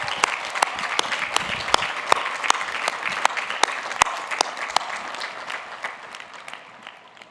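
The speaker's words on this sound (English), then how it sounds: "everyone please give a round of applause to our first-generation students" At the University of Virginia's Class of 2021 commencement, an outdoor crowd applauds first-generation students: a steady wash of clapping with sharp individual claps standing out, fading gradually toward the end.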